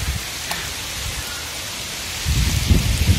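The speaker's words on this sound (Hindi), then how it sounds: "एक घंटा हो गया बारिश छूटने का नाम ही नहीं ले रहा है, पता नहीं कब बारिश छूटेगा" Heavy rain pouring down steadily, a dense hiss that swells louder and more turbulent in the last second with low rumbling, as of thunder or a strong gust, with no voices.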